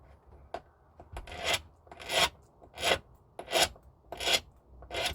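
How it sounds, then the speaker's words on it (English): Metal jewelry piece for a leather necklace clasp being filed by hand, about six rhythmic rasping strokes, each a bright scraping burst, close and clear with no talk. "A little bit of filing on that."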